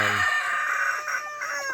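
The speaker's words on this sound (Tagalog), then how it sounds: "At ayun pa yung ating bagong biling parawakan na mga inahin." Parawakan breed hens give drawn-out, tonal calls close by, one sustained cry followed by shorter broken notes, with no talking over them.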